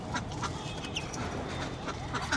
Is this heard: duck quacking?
yes